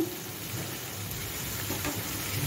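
Whisked sour yogurt goes into frying masala in a pan over low heat: a steady, soft sizzle with faint bubbling and light spatter, close and continuous.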